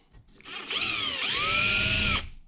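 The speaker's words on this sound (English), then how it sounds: "I'm just gonna use a big drill bit." A power drill with a big bit countersinks a rivet hole, revving up into one loud, sustained whining cut of about two seconds that then stops abruptly.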